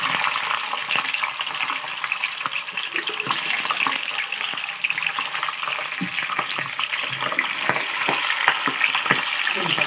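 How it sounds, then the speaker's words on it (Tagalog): Milkfish (bangus) frying in hot oil gives a loud, steady crackling sizzle throughout, with frequent sharp pops and spatters standing out against the dense hiss. "So, ipa-fried na natin yung bangus natin."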